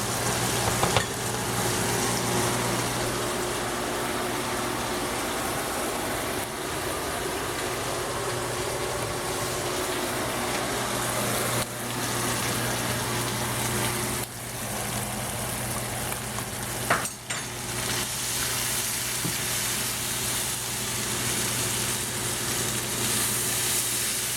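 Chicken and cashew nut stir fry in a hot wok, a steady close sizzle and frying hiss throughout as sauce goes in, with occasional stirring clatter and no talk.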